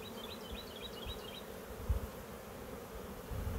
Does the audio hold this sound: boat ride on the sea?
no